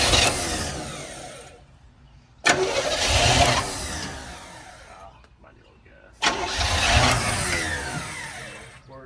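A 1971 Chevelle Malibu engine that sat for over 20 years cranks and catches twice in a row, each start a loud burst of rough running that fades back, with voices talking around it.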